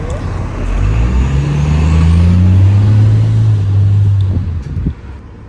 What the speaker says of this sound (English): the bus is coming